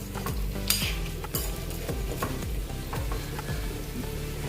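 Ragi bun dosa cooking in a pan gives a steady close sizzle with scattered metallic scrapes and clinks of a utensil against the cookware, and no voices over it.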